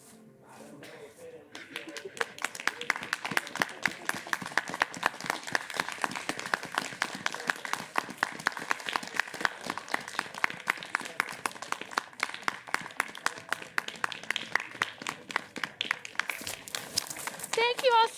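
A theater audience claps steadily after a live stage comedy show, a long run of many close, sharp hand claps that builds after a quiet start and carries on until near the end, where it tapers off.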